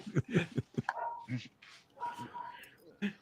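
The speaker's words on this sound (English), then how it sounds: "Whose dog is barking?" A dog barks and yips somewhere in the background of a casual hangout stream, short sharp calls mixed among people talking and whispering nearby.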